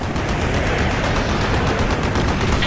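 Anti-aircraft fire pours up from a ship's deck in Call of Duty Black Ops, a relentless, dense barrage of overlapping rapid shots heard during a helicopter approach, loud and continuous from start to finish with no pauses.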